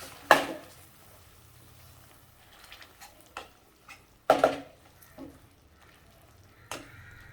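Cooked tomatoes being mashed in a pan with a pav bhaji masher for tomato chutney, a few sharp thuds and soft squelching presses spaced irregularly, close by with quiet pauses between.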